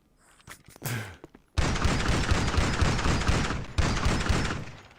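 Sustained, loud gunfire from GTA 5 Online bursts in after a short opening of scattered sounds, continuing densely for several seconds with a brief break before resuming.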